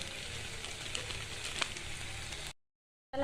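Tomato paste sizzles and crackles steadily in a hot pan for a couple of seconds, then cuts to silence before a brief burst of sound.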